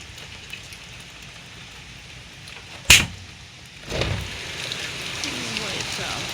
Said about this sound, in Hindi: सुबह सुबह टाइम हो रखा है 6:30 का और इतनी तेज बारिश हो रखी है।